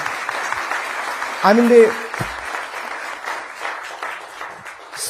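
Crowd applause at a political speech honoring the Indian Air Force, a steady mid-level patter of many hands throughout, with a brief voice rising over it partway through.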